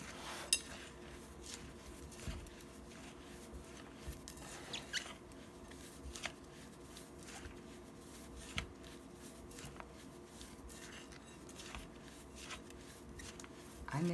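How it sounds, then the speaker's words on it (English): Baking soda crumbles being rubbed and mixed between the hands, a quiet, close stream of soft gritty crackles and scattered little crunches, steady and alone with no talking. "I rub it in my hands like this"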